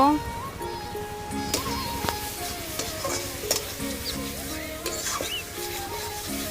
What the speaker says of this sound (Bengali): পরিমাণ মতো লবণ হলুদ দিয়ে একটু নেড়ে চেড়ে নেব